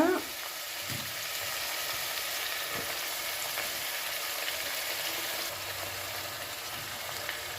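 Cucumber pieces frying with other cut vegetables for a mixed vegetable curry, a constant soft sizzle with a few faint utensil taps, moderately close and without talk.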